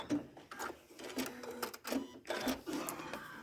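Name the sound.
sewing machine sewing quilt block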